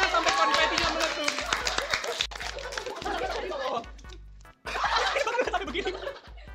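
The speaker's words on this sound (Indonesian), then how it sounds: "Kita tepuk tangan sampai konfetinya meletup." An audience claps for a winner at a campus game event, dense close applause with chuckles and laughter, pausing briefly before resuming over a steady low beat.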